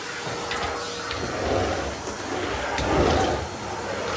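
A household vacuum cleaner with a standard floor attachment, not a turbo brush, runs steadily indoors in a hallway, a continuous broadband whoosh with gentle swells in loudness as it is pushed back and forth.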